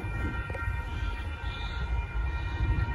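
A northbound Union Pacific mixed freight train passes at a road crossing in Austin, Texas, its continuous heavy low rumble and wheel noise loud and close throughout, with a faint horn-like tone.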